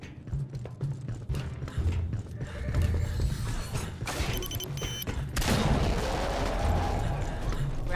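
Gunfire in the sci-fi shooter Aliens Fireteam Elite: a continuous, fairly distant rattle of weapon fire mixed with mechanical clanks and game effects, with no talk over it.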